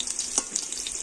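Lightly fried potatoes in hot oil, a close, steady crackling sizzle with small pops and a few sharper clicks, brief and without talking.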